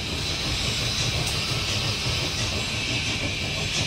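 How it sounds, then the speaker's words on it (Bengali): A train picking up speed, a steady loud rumbling roar of wheels and carriage noise with a continuous broadband hiss, no pauses. "এরপর ট্রেনের গতি আবার ধীরে ধীরে বাড়তে লাগল।"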